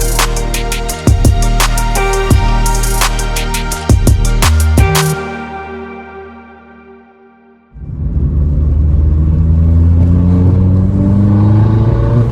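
A turbocharged car accelerates hard with sharp clattering bursts and gear changes, fades and drops away, then comes back in with a loud, steady, rising engine roar close by.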